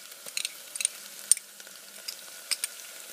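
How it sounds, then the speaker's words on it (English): Ginger garlic sauce sizzles in a pan, a faint, soft crackle with scattered small pops and stirring clicks, no talking. "Can you hear the sizzle?"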